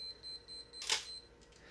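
A Minolta X700 35mm film camera gives its low-light warning beep, a faint, steady high-pitched tone with one brief, sharp click in the middle.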